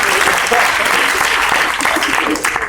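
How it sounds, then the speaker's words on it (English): Loud, sustained applause from a student audience at a stage hypnosis show, dense clapping filling the whole stretch with faint crowd noise mixed in. "Big round of applause."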